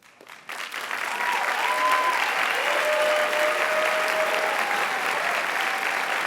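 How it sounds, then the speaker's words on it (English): Sustained audience applause at a high school senior honors night as students stand to be recognized, swelling in quickly and then holding steady and full, with faint crowd murmur underneath. "thank you for doing your clap"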